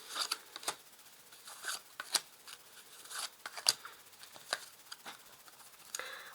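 Tarot cards being shuffled and dealt out, a quiet close run of soft flicks, slaps and papery rustles in irregular bursts, with no talking.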